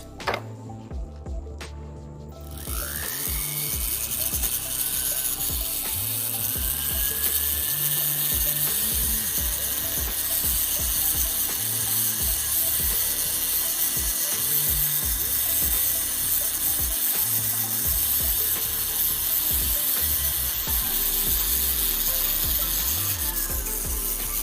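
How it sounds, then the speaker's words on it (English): Rotary tool spinning a green rubber polishing wheel against jewelry, a steady close whine with gritty rattling contact noise running continuously after a brief quiet start. "I'm going to use my green rubber wheel."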